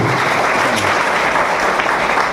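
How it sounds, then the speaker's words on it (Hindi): Hearty audience applause for the managing director at an achiever celebration, a loud, dense burst of clapping filling the hall without talk. "तो एक बार जोरदार ताली हमारे डॉक्टर संजीव सर के लिए"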